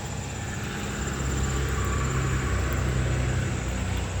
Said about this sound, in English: Man, in his big old loud truck.